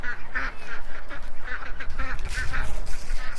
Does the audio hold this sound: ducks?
yes